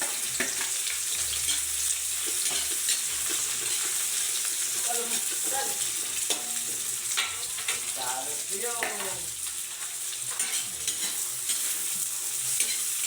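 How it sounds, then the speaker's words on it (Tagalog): Vegetables for pancit bihon sauté in a hot pan with a loud, continuous sizzle, spoon scrapes and stirring clatter running throughout, with brief faint voices in the background. "Una muna nating igisa itong ating mga gulay"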